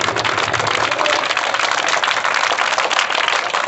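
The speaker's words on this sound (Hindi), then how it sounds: "इसलिए तालियां बजा दो।" Students in a classroom break into steady, dense applause, a continuous wash of many hands clapping at once, loud and close with no talk over it.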